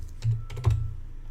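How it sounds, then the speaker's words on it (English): A few quick keystrokes on a computer keyboard, soft clicks close by in a quiet room. "I think I typed it in incorrectly."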